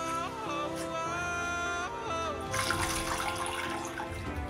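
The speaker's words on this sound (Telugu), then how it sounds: "శుభ్రంగా కడుక్కొని తోటకూర అందులో వేసుకోవచ్చు" Amaranth leaves washed under a running kitchen tap, a steady stream of water pouring close by, with a brief, louder splashing surge toward the end.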